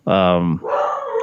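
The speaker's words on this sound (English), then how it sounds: "I'm gonna apologize for my dog" A dog barks once in a single loud, close, harmonic yelp that breaks into a rough, drawn-out whine, set against a quiet indoor background.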